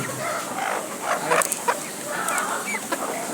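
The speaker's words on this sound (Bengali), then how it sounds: "এই যে আরও আছে দেশি মুরগি" Native desi chickens kept for sale cluck and chatter in short, uneven bursts close by, over a steady outdoor background.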